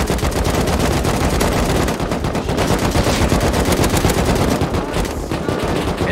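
Continuous rapid gunfire from the survival game Rust, dense overlapping automatic bursts filling the whole stretch, loud and close.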